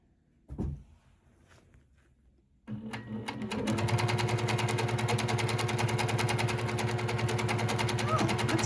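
A sewing machine stippling a quilt in S shapes and a random pattern starts after a quiet moment and a small knock, then runs steadily and loudly at an even, rapid stitch.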